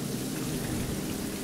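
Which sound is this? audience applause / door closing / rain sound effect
rain sound effect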